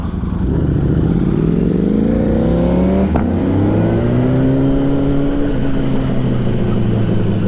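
A 2021 Kawasaki ZX-10R with a newly installed aftermarket exhaust rides past, its engine note rising and falling in pitch as it revs, loud and close for the whole stretch.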